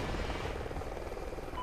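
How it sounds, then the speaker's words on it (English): A friendly helicopter in the video game Call of Duty: Ghosts gives off a faint, steady rotor thrum and engine whine, heard briefly and at a distance. "Friendly helo pilot active."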